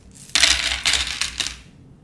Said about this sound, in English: take this nice pretty bag of dice and shake them? It makes a nice rattling sound. Ooh. Now roll them into this box.